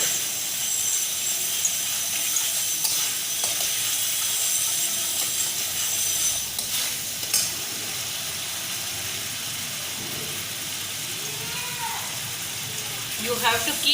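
Tamarind sevai mixture being stirred in a pan, a steady sizzling hiss with soft scraping running throughout, a few louder clatters near the middle and end.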